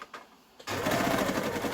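An overlocker sewing machine cuts and stitches fabric for a piped cushion cover, starting after a few faint clicks with a loud, rapid mechanical whir that holds steady to the end.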